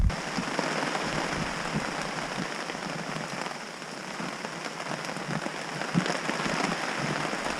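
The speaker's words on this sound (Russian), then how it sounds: "Начался дождь уже весь вечер льет." Steady rain falls through the evening near the Vyborg Bay, a dense, continuous hiss of drops on surfaces, close and unbroken, with no voices.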